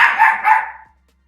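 A dog named Olympia lets out a short, loud double bark at its own reflection, close by, trailing off quickly into silence.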